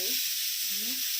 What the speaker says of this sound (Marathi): मोहरी थोडी टाकून आपण कमी याच्यावर फ्राय करून घेऊया.